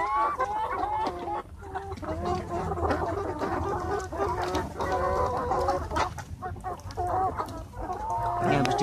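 A flock of 13-week-old laying hens, several hundred birds, clucking and chattering nonstop with occasional longer crow-like calls, close and fairly loud, continuous throughout with no talking.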